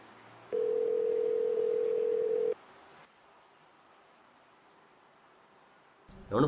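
A single steady telephone ringing tone from an unanswered call sounds for about two seconds, then the line falls to faint hiss before a short burst of noise at the end.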